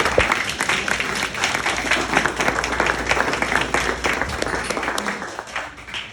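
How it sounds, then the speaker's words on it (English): Audience gives Senator Pope a big round of applause at an NAACP Freedom Award event, dense, sustained clapping from a sizeable crowd that slowly tapers off. "Please give him a big round of applause."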